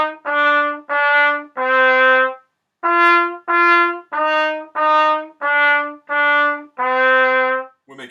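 A beginner brass instrument plays a short repeated phrase of about a dozen clearly tongued, sustained notes in a steady rhythm, loud and close, with one brief pause midway.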